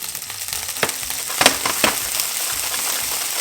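Garlic, ginger and chili sizzle in hot oil in a pan, a steady frying hiss with a few louder crackles and stirring scrapes partway through, close and without speech.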